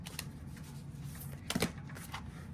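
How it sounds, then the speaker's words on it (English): A deck of cards is shuffled at close range, with soft riffling flutters and a louder burst of quick snapping clicks midway, over a quiet room hum. "These are not so easy to shuffle."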